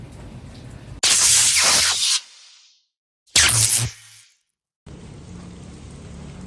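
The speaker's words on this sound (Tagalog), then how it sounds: "tuloy tuloy pa rin yung buhos ng ulan" Heavy rain pours in two loud bursts of dense hiss with short pauses, then settles into a steadier, quieter patter at the end.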